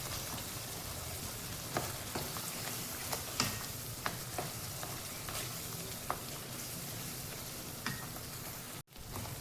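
Chopped capsicum with oregano and Kashmiri red chili cooks in a pan, a soft steady hiss of frying broken by light taps and scrapes of stirring, fairly faint, with no talk.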